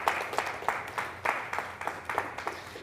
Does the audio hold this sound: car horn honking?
no